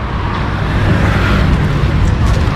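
Steady roadside traffic roars close by as vehicles pass on the road next to a new dumper truck, a loud continuous rumble throughout with no clear speech.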